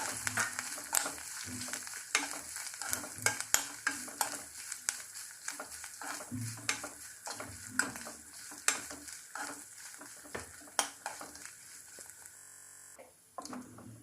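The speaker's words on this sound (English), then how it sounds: "Make the flame low. Grated coconut. Mix well." Grated coconut is stirred in a kadai over a low flame, with a steady soft sizzle under repeated scraping and clinking strokes of a spoon against the pan.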